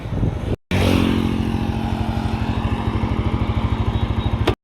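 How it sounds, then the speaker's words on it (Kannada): A motorcycle engine chugs in a steady, rapid putter close by, running continuously after a brief cut near the start. "ನಮ್ಮ ಹುಡುಗನ ಬೈಕ್ ತಗೊಂಡು ಹೋಗ್ತಾ ಇದ್ದೀನಿ"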